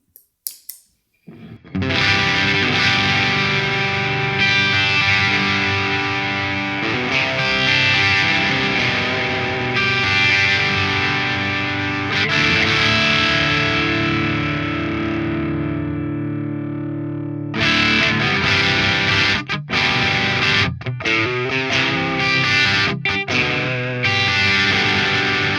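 An electric guitar runs through a new PRS effect pedal. Thick, sustained chords ring for about fifteen seconds, then a brief drop gives way to choppy, rhythmic strumming with short stops, loud and up close.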